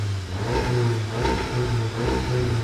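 A 2018 Volkswagen Golf R 2.0 TSI with DSG and 4Motion revving, its engine surging up and down in quick loud blips over a steady idle, close and unaccompanied by speech.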